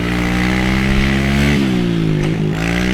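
Kawasaki KLX110 farm bike engine held at full throttle: a loud, continuous, buzzy high-rev drone with slight pitch dips, close and alone for three seconds.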